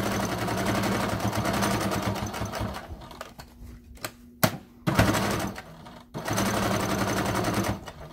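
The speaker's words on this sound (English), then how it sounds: "When you get to that curve at the top, if you're not used to sewing curves, make sure you take your time." Sewing machine stitching the curved top edge of an arched fabric face mask, a loud close mechanical whirr that runs, slows and stops briefly, then resumes in steady bursts.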